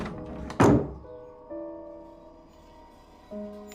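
A school's front door swings shut with one heavy, close thunk, followed by sustained low droning tones that fade and swell.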